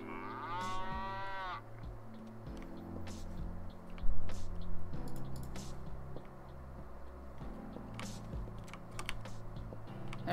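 A game cow gives a drawn-out moo at the start in the video game Happy's Humble Burger Barn, then keyboard clicks and low steady game music continue under it.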